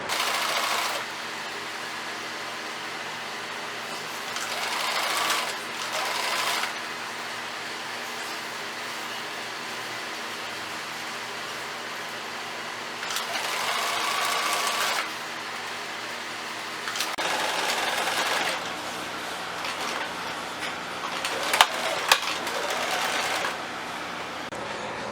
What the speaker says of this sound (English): I'm going to try stitching the strips together and then attaching it to the brown cotton